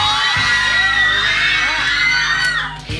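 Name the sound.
crowd cheering and shouting encouragement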